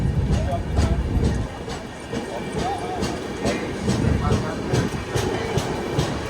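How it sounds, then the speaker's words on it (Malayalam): A special train rake moves through Whitefield station, wheels rolling with rhythmic clickety-clack and occasional squeals, loud and close, with voices talking faintly in the background. "ഇവിടെ ഒരു സ്പെഷ്യൽ ട്രെയിനിൻ്റെ റേക്ക് എടുക്കുന്നുണ്ട്"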